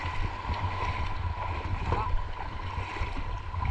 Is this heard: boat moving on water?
yes